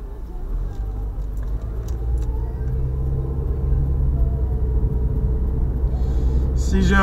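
Car traffic on a Montreal street, heard as a steady, close low rumble of engines and road noise from cars idling and creeping along, growing slightly louder toward the end, with no talk over it.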